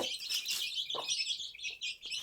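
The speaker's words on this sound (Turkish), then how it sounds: "Bu civcivlerin yemek yeme sesi. Heyecanlı yemek yeme sesi." Many small chicks cheep and peep busily together while eating, in a dense, high-pitched chorus, with a few soft pecking taps underneath.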